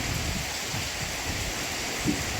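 Steady, dense rain hiss filling the air, even and continuous with a brief low rumble near the end.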